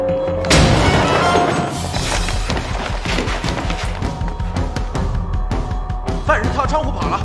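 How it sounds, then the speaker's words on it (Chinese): A door is kicked in during a wartime film scene. A heavy boom and splintering crash land early, followed by a run of loud thuds and knocks over a dense soundtrack. "踹门！"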